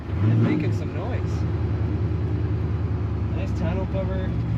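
A 1970 Chevrolet C10 pickup truck's engine rumbles loudly and steadily up close, its low drone holding throughout while a voice talks over it.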